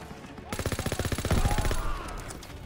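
Rapid automatic gunfire from Call of Duty: WWII, a steady burst of close, loud rattling shots lasting about a second and a half before cutting off, with no talk over it.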